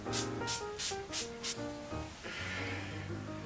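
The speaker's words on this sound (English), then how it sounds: "I just give my face a good spritz" Five quick hissing sprays from a pump bottle of NYX Matte Finish Setting Spray in a fast rhythm, heard over soft background music.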